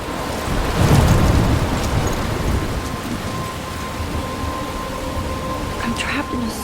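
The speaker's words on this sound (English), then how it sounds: "I'm trapped in a storm?" Steady heavy rain with rolling thunder in the video game Life is Strange, a dense hiss of downpour with a deep rumble swelling early on and then fading under the continuing rain.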